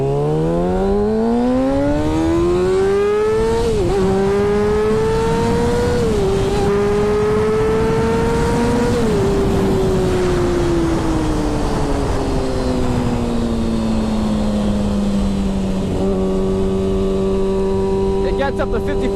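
A motorcycle accelerates hard close by, its engine note climbing through several gear changes with short dips in between, then settling into a loud, steady drone at speed, with wind noise and a voice heard over it.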